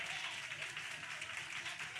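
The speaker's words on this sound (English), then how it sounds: "Y'all ought to clap for that." An audience at a community outreach gathering claps in a dense, steady patter, heard faint and distant across the whole stretch with no pause.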